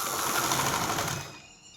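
Sewing machine stitching a kurti, a steady dense whir that runs close and continuous for most of the moment before easing off near the end.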